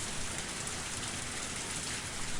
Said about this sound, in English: The sound of falling raindrops was fierce,